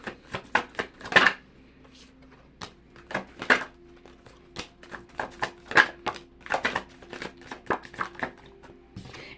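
Deck of cards being shuffled close up, a series of quick crisp riffling and tapping bursts in an irregular rhythm, fairly quiet with short pauses between shuffles.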